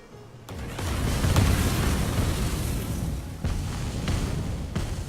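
Explosions in the video game Divinity: Original Sin Enhanced Edition swell into a dense, loud rumbling roar, with a few sharper bursts cutting through the sustained blast noise.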